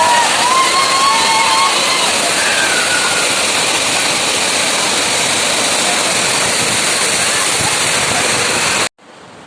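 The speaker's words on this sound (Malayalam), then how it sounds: "ഇതാണ് കാപ്പിമല വൈതൽക്കുണ്ട് വെള്ളച്ചാട്ടം ഇത് കണ്ണൂർ ജില്ലയിലെ ഏറ്റവും വലിയൊരു വെള്ളച്ചാട്ടമാണ്" Vaithalkundu waterfall at Kappimala in Kannur district roars as a steady, loud rush of falling water that fills the whole stretch, then cuts off abruptly near the end.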